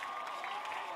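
Baseball fans at a regional high school tournament game cheer and clap in a brief, steady burst of crowd noise, a dense wash of voices and applause heard from a distance.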